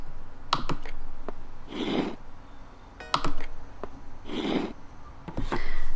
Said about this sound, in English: I love the sound of locks clicking.